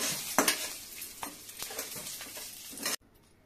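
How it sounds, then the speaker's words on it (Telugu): Garlic cloves, cumin seeds and dried red chillies fry in a hot kadai for a coconut chutney, giving a close, crackling sizzle with sharp spattering pops and stirring scrapes that stop abruptly near the end. "ఒక 3-4 వెల్లుల్లి రెబ్బలు వేసుకొని వేయించాలి."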